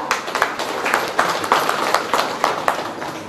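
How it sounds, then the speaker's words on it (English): Audience applause at a live-streamed event: a steady wash of many hands clapping, with sharper bursts rising and falling throughout. "Let's give them a very big round of applause for that."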